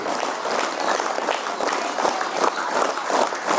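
A school audience claps together in a steady rhythmic pattern to welcome visiting guests, producing a dense, continuous wash of many hands with regular pulses and no talking.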